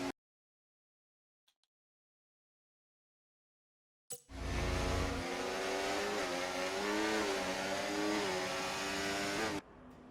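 Formula 1 race cars in the video game F1 24 screaming past at high revs, a sharp burst after silence that holds a loud, rising and falling engine whine for several seconds before cutting off.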